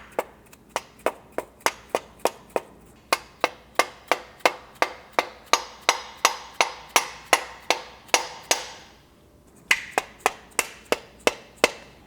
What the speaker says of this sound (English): you can tap them the rest of the way with the hammer